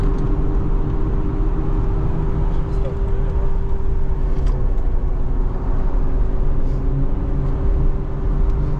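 Engine drone from a 1994 Nissan Terrano V6 lapping the Nürburgring, a loud, steady cabin hum with a constant low tone and no distinct shift events standing out.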